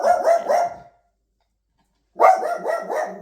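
A dog named Skipper barks in two quick bursts of three or four loud, close barks, with a silent pause between them.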